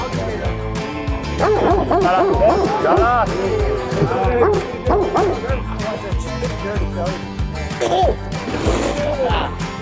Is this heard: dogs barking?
yes